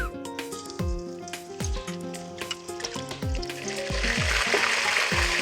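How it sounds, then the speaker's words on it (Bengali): Onions frying in hot oil until brown for a village-style rice dish, a steady crackling sizzle that swells louder toward the end, partly covered by melodic background music with deep, dropping tones. "পেঁয়াজগুলো আমি সুন্দর ব্রাউন কালার করে ভেজে তুলে রাখবো।"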